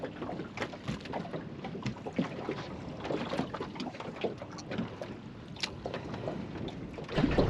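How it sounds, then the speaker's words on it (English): Strong southerly wind buffets the microphone on a boat out lure fishing, a continuous gusty roar with rushing bursts and water noise, louder at the end. "Definitely windy, but that's the only problem. It's howling from the south already."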